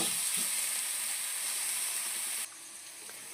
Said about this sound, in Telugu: ఇప్పుడు కచ్చాబచ్చిగా తంచుకున్న అల్లం వెల్లుల్లి పేస్ట్ వేద్దాం కొంచెం బాగా వేదనివ్వాలి పచ్చివాసన పొయ్యేంత వరకు